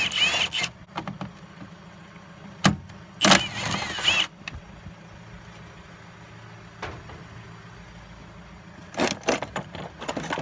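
Three 13mm nuts and bolts are wrenched off the battery tray of a Skoda Fabia or VW Polo, heard as short metallic clinks and rattling bursts of socket and fastener handling, with quiet gaps in between.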